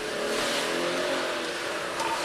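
A car accelerates as a suspect flees during a police pursuit after a fatal shooting spree, producing a loud, sustained engine roar at steady intensity with no clear pauses.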